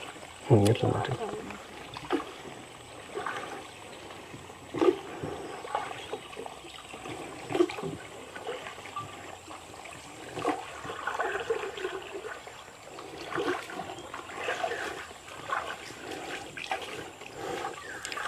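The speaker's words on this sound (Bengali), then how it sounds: "মানুষ দেখলে বলবে যে বাচ্চাটা পানি দিয়ে খেলতেছে" A child plays in the water from a small boat by a floating guava orchard, making light intermittent splashes and trickles close by while adults talk over them.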